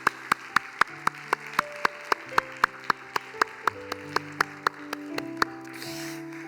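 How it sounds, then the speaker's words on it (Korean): A young adults' worship congregation at a Korean church claps in unison, sharp regular claps on a steady beat over sustained keyboard chords, the rhythm fading near the end. "우리 예배 받으시기 합당하신 하나님께 높은 박수로 한번 영광 올려드리겠습니다"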